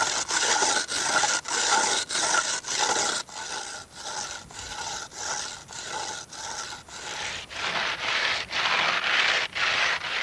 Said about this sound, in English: The sawing went wonderful once we switched over to using water with the sand.